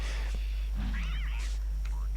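A cartoon cat fights two frogs in the survival video game Don't Starve Together, giving short meows and yowls with bursts of scuffling, all over a constant low hum.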